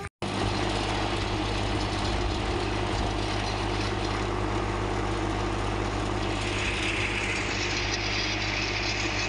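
A Massey Ferguson 135 tractor engine runs steadily near the listener while out collecting wood, a loud continuous diesel chug with a low throbbing hum that barely changes over the whole stretch.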